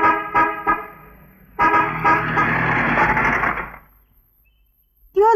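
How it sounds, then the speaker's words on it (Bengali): A car horn honks in a Bengali film scene: a few short toots, then one long blaring blast that fades into quiet street ambience, loud and close. "Horn they."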